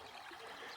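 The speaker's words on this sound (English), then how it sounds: "This is the River Wye." The River Wye flows through Monsal Dale as a soft, even rushing murmur of clean, clear water, faint and steady with no voices.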